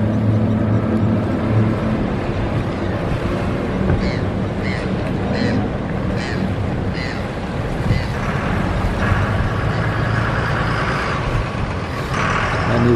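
Steady, loud roar of twin Suzuki 250 V6 four-stroke outboard engines running together, a constant droning hum with some rushing water, no pauses throughout.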